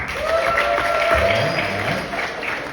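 A comedy club audience at The Chicago Laugh Factory claps and cheers in a steady wash of applause lasting a few seconds during a stand-up set, with a faint high whistle riding over the noise.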